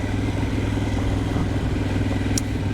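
A motorbike engine idles close by on the wild west coast near Auckland, New Zealand, a steady loud low throbbing rumble with light mechanical clatter and no talk.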